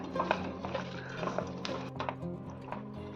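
Vegetable biryani mixture with fried onion and chopped mint being stirred in a cooking pot, a steady run of soft scraping and clinking from spoon against metal, continuous and close, with a faint background hum.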